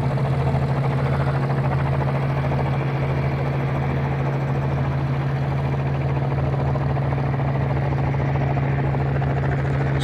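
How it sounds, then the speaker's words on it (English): A small training aircraft taxiing for departure at Springbank Airport near Calgary, its engine droning loud and steady at a low idle-like pitch for the whole stretch, with a constant throbbing hum and no pauses. "They taxi out for departure at Springbank Airport."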